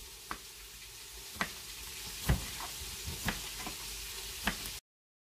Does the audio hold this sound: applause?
no